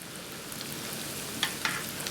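Potato croquettes frying in oil in a pan: a steady, soft sizzle with a few sharper crackles and pops, heard alone without talk.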